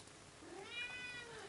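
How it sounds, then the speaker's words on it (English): A house cat gives a single short, rising meow, faint and close, over a quiet indoor room background. "So that's my cat."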